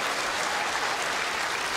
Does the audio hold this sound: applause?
yes